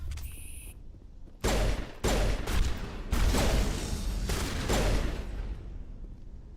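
Rapid gunfire from the video game Mass Effect, several sharp loud bursts of shots in close succession that follow a short quiet start and then continue as a dense, sustained volley.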